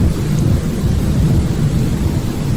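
Deep, rumbling thunder-like banging during a storm, a dense low roar with rain hiss over it, loud and steady throughout with no voices.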